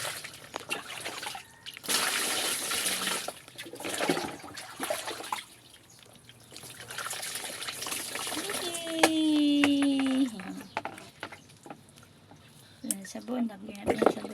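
Water splashes and trickles in a basin while a young child is bathed, arriving in intermittent pours and dribbles with a hollow gurgle midway, as an adult talks through much of it.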